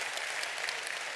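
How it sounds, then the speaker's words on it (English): Steady audience clapping fills a church sermon hall, a dense even wash of applause with no voices over it. "And you can clap from this point forward,"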